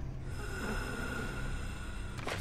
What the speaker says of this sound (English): I hear him breathing.